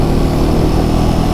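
A Harley-Davidson motorcycle engine, a loud, close, continuous rumbling drone with a steady throb from start to end, on a mountain road near Shimla.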